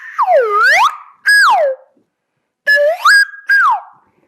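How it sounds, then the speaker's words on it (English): Slide flute producing comical swooping whistles, pitch gliding down and back up in four separate bursts with short gaps between them, bright, close and loud, with no talking. "And these are sliders flutes."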